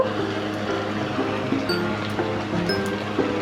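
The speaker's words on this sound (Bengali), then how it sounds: "কিছুক্ষণ সব কিছু একসাথে ফুটতে দেবো" Bengali moong dal with a fish head simmers in a pot, giving a close, steady bubbling and gurgling with small irregular pops and no talk.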